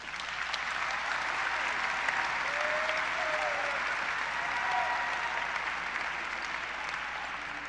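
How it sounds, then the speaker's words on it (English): A graduation audience at a high school ceremony applauds staff members with sustained, dense clapping from a large crowd, even and continuous throughout, filling the hall at a steady level. "Can I get a round of applause for our outstanding staff members?"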